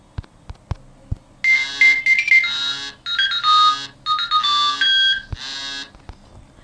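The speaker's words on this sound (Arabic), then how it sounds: "ده الموبايل بيرن" A mobile phone rings with a bright electronic melodic ringtone, playing in repeated bursts for about five seconds after a few faint clicks, loud and close, with no talking.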